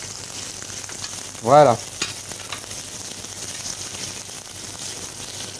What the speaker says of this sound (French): Les crevettes, je n'aime pas les cuire trop fort. Je les cuis tout doucement. Vous entendez? Ça chante tout doucement.